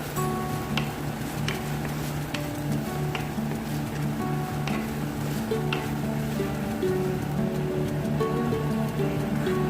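Thinly sliced medium onion frying in a pan for a chicken curry, a steady close sizzle with occasional clicks of a spoon against the pan.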